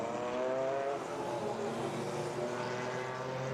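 Porsche 911 and other vintage race cars of mixed eras battle at VIR during an SVRA event, a steady loud blend of engine drone with harmonic whine held throughout, no voices.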